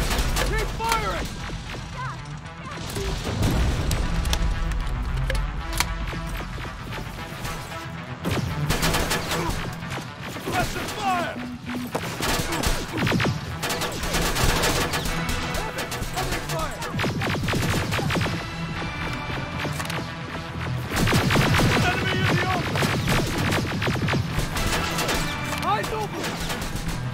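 Gunfire crackles in a Terminator Resistance Annihilation Line battle against a large army: sustained bursts of shots and impacts go on under shouting voices and music.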